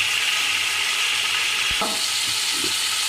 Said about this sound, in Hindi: इसे हम हल्का सा फ्राई करेंगे ताकि इसके अंदर की जो हीट है वो ख़त्म हो जाए